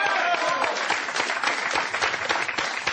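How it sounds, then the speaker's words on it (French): Steady, lively applause from an audience at a live poker event, a dense run of claps lasting a few seconds at fairly close range with no talk over it. "On l'applaudit, s'il vous plaît"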